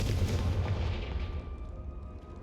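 A Confringo fire spell in Hogwarts Legacy lets off a loud, booming blast that rolls on as a dense, low rumble and then fades over a couple of seconds, with no voices.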